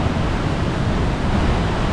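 The Cachoeira da Camisa waterfall and a river, likely the Mambucaba, make a steady, loud rushing roar of water on a forest trail, continuous with no voices.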